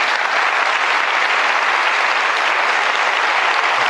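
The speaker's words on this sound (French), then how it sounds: "ça s'applaudit" A comedy show audience applauding in a steady, dense wash of clapping, loud and continuous with no talk over it.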